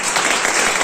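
An audience at a seminar claps in a dense, steady round of applause that is loud, close and sustained without a break.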